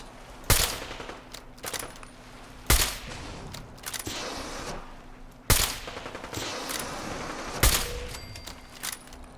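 Fallout 4 firefight with loud, sharp gunshots spaced a couple of seconds apart, each followed by rattling echoes and scattered smaller shots in the background.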